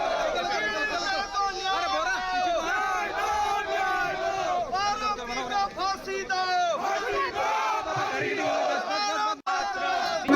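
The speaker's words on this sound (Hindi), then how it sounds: "मस्जिद के पास नारेबाजी हिंदुवादी संगठनों के लोग कर रहे हैं" A large crowd of Hindu organization members chants slogans near a mosque, loud rhythmic shouting voices in unison rising and falling continuously, with a dense, energetic roar of many people close by.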